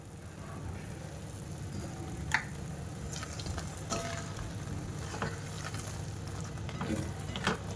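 Ghee sizzling in a pan as farali halwa is stirred, a constant close frying hiss with scattered clicks and scrapes of the spoon.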